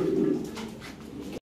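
Lahori Sirazi pigeons coo close by in a low, throaty, rolling murmur that runs steadily for over a second before stopping abruptly.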